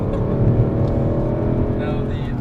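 A Mercedes C63 AMG with a 6.2-litre V8 rumbles with a deep, loud, steady engine drone from inside the car, the revs rising and easing slightly throughout.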